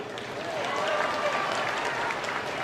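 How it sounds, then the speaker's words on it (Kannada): Audience at a public talk breaks into steady, continuous applause, with crowd voices mixed into the clapping throughout. "ಚಪ್ಪಾಳೆ ಹೊಡೀರಿ"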